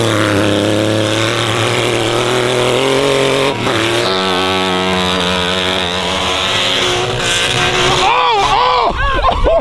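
A three-wheeler ATV fitted with tracks rides through deep snow, its engine droning loud and close with steady revs that rise and fall, then surge and bog near the end as it churns through a drift.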